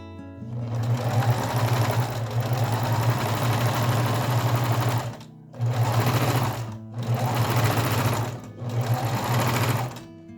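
A domestic sewing machine stitches knit fabric with a small zigzag stitch, its steady motor hum and rapid needle chatter running loud and close in long stretches broken by a few brief stops.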